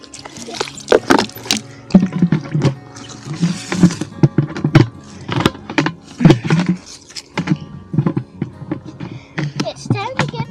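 Water from a tap splashes and pours into a chickens' drinker, with uneven sloshing and dripping bursts close to the microphone while people talk over it.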